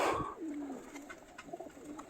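Pigeons coo softly in the background, low throaty calls over a faint outdoor hiss.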